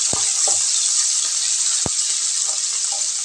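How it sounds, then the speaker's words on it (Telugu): Chopped onions and green chilies sizzle steadily in hot oil, a constant bright frying hiss broken by a few low stirring knocks and scrapes of the spoon, no voices. "ఇప్పుడు ఇందులోకి ఉల్లిపాయలు, పచ్చిమిరపకాయ ముక్కలు వేసుకుందాం. గోల్డెన్ బ్రౌన్ వచ్చేదాకా వేయించుకున్నాము."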